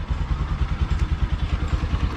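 Dirt bike engine running close by, a steady rough pulsing exhaust note at idle to low revs, loud and unbroken, with no speech.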